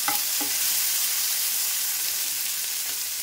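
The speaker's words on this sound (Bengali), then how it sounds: "পেঁয়াজ আর টমেটোটাকে ভালো করে ভেজে দেবো।" Onion and tomato fry in a pan with a continuous close sizzle and hiss, joined by a couple of soft stirring knocks near the start.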